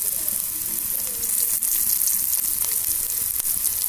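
Curry leaves fry in hot oil for poha, giving a steady, loud, close crackling sizzle with a few sharper pops throughout.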